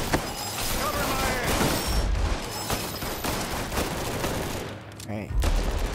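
Dense, continuous gunfire in the Mafia 3 video game, with rapid overlapping shots and heavy booms through a casino firefight, loud and close throughout, with a voice speaking partway through.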